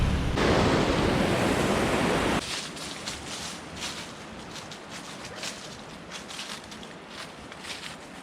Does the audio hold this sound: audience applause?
no